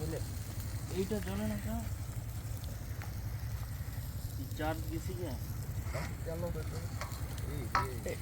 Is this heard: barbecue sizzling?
yes